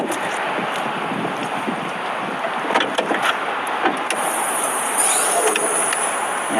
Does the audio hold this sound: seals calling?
no